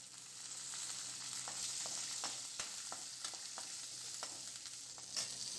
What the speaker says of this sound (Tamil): கருவேப்பிலை நல்லா பொரிஞ்சிருச்சு